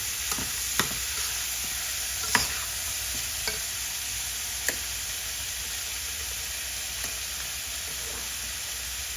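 Paneer pieces are tipped into a hot pan for leftover roti bhel and stirred, bringing a steady close sizzle broken by several sharp scraping clacks of the spoon against the pan.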